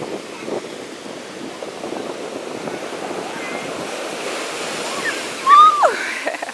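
Steady sea surf washes against the shore at Nha Trang in the rainy season, with wind buffeting the microphone, and a brief high squeal cuts through near the end.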